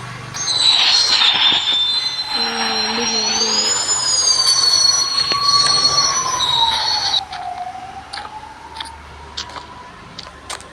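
A video game train rumbles past with loud, sustained metallic wheel squeals that rise and fall, then fades to quieter clatter.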